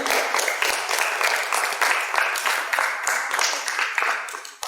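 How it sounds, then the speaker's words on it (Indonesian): An audience at a communal Ramadan iftar gathering claps together in dense, continuous applause that stays fairly loud throughout before ending abruptly. "Tepuk tangan dong untuk kita semua yang ada di sini."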